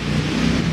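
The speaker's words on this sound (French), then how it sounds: "Ah, il y a une grosse auto qui passe." A big car passes close by, a steady loud engine rumble filling the short moment with no voices over it.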